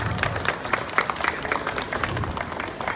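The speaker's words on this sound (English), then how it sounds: "Little round of applause for these guys" A small group applauding after a wrestling demonstration, a dense, close patter of clapping that holds steady for a few seconds.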